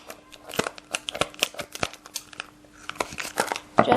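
Tape being cut off a roll while assembling a mini piñata from a paper towel tube: a run of close, crisp crinkling and tearing snaps, irregular and busy, with no talking.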